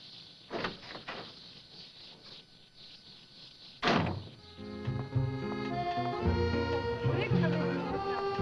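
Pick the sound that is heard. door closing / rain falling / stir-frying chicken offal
door closing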